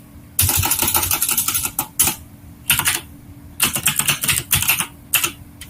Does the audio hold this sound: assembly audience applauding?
no